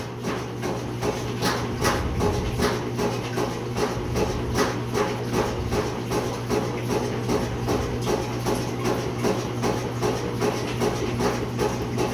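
An older, cheap clothes washer runs noisily with a steady low hum and loud, rhythmic thumping and clanking that keeps going throughout, close and continuous.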